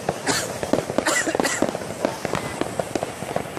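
New Year's Eve firecrackers burst in a string of sharp, loud cracks and bangs, some close and some farther off, with people chatting in the background.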